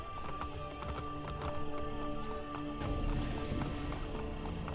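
A summoned horse in Assassin's Creed Brotherhood gallops close by, its hooves clopping in quick rhythmic beats, with loud whinnying neighs breaking over the running.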